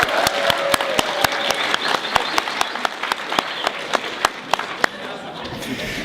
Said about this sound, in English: can we give Simon a round of applause?